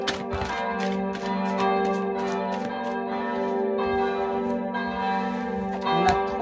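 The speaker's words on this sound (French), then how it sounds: "il faut vraiment que je passe au-dessus de ces cloches." Church bells peal continuously and loudly, several bells striking in overlapping rhythm with long ringing tones.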